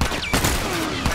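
Gunfire in the video game The Last of Us comes as a loud burst of close, sharp shots with rapid reports and a lingering game soundscape, with no talking over it.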